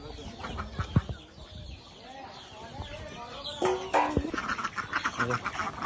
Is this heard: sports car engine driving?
no